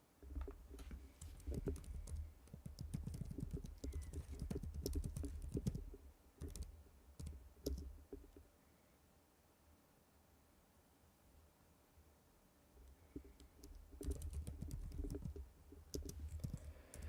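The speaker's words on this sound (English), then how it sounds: "That's why I was typing away." Rapid typing on a computer keyboard in a home setting, with dense clusters of clicks for several seconds, a quiet pause, then another burst of keystrokes near the end.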